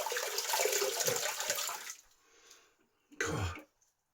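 Tap water runs loudly into a sink as a shaving brush is rinsed for about two seconds, then stops; a short throat-clearing or cough follows after a quiet pause.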